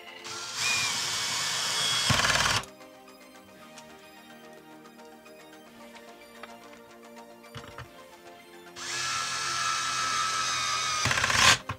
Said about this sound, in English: So now we can go ahead and take more of these screws and put these in here.